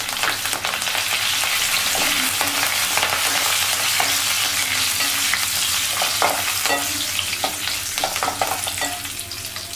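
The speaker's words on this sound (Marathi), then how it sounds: "कढीपत्ता हा व्यवस्थित कुरकुरीत होऊ द्यायचा आहे." Curry leaves crackle and fry in oil with mustard seeds and cumin in a pan for a chivda tempering, a loud continuous sizzle with sharp pops and stirring scrapes, no talk.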